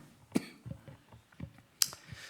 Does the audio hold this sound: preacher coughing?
yes